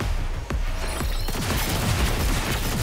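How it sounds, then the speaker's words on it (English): Bombs thrown at a turret burst in a rapid, dense barrage in Cyberpunk 2077 Phantom Liberty, loud, close blasts and crackling impacts piling over one another without a break. "she's throwing, like, actual bombs at it"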